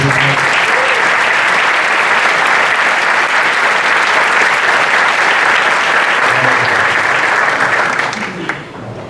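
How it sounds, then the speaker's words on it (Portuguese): A church congregation applauds during a Sunday service, steady dense clapping that fills the room for about eight seconds before tapering off. "Vamos aplaudir ao Senhor mais uma vez."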